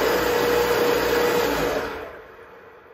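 A spindle motor driven by a VFD runs in reverse with a steady, loud whine and hum, then spins down and fades out over the last second.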